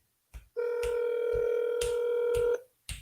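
Telephone keypad tones sound during a cold call to a for-sale-by-owner seller: a few short electronic beeps, then a sustained two-second tone, then another brief beep, all clean and close with no talking.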